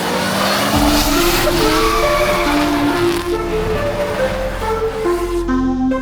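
A drifting car holds a loud, continuous tire squeal over a steady engine drone, sustained throughout with shifting pitch and no speech.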